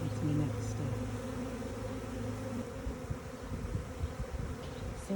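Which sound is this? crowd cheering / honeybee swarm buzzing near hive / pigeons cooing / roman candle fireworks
honeybee swarm buzzing near hive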